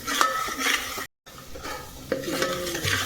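A spoon stirs ground masala paste in a hot cooking pan in a home kitchen, scraping and clinking against the metal over a soft sizzle, close and steady, with a short break partway through.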